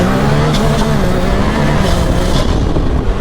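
A turbo Can-Am UTV charges uphill on sand dunes, its engine roaring loud and constant with a high whine and wind buffeting, heard from onboard.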